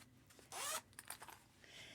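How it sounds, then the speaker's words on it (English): Zipper on a canvas zipper bag pulled in one quick bright rasping stroke, followed by a few softer fabric rustles and short scrapes, close and quiet. "what this is a canvas zipper bag."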